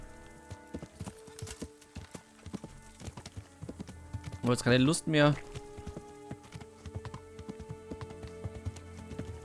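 Horse hooves clip-clop steadily in Kingdom Come: Deliverance, a crisp, evenly spaced patter of hoof strikes running throughout, with someone briefly talking over it midway.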